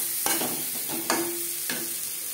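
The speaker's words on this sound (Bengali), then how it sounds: "আলু ভেজে নেব" Boiled, peeled potatoes frying in oil in a pan, a constant sizzle under a few sharp scrapes and knocks of a spatula, close by with no voices.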